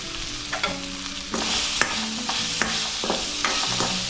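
Spices with asafoetida sautéing in oil for potato bhaji make a steady close sizzle, punctuated by spoon scrapes and stirring knocks against the pan, no voices.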